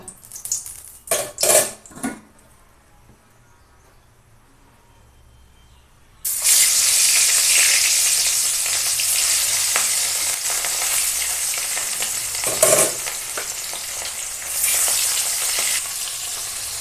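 Rohu fish pieces fry in hot oil in a wok. A few quiet clinks come first, then a loud, steady, close sizzle bursts in and keeps going with small crackling swells.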